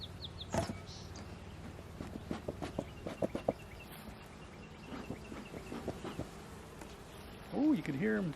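Honeybees buzz around a backyard beehive, a faint, steady hum with sporadic closer insect passes and light handling noises; a short vocal sound near the end.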